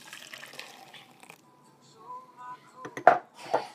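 Fresh juice from a Kuvings centrifugal juicer poured into a cup, a short liquid trickle and splash near the end after a few quiet clinks and faint rustling.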